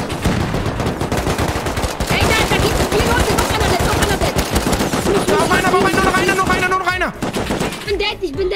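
Rapid automatic gunfire from a firefight in the survival game Rust, loud and sustained bursts rattling almost nonstop, with excited voices shouting over the shooting.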